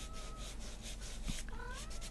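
A kitten meows with short rising and falling calls over a steady hum, nearby and moderately loud, while someone works on a shading drawing of a shadowed ball.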